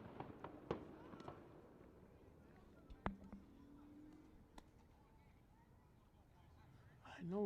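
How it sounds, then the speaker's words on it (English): Distant fireworks pop during a youth baseball state tournament game on July 5, a few sharp, faint bangs scattered over quiet outdoor ambience with soft voices in the background. "there's fireworks going on."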